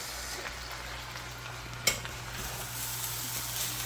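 Pork fried rice sizzles steadily in a hot pan, a dense, even frying hiss close up with one brief clatter partway through and no talking.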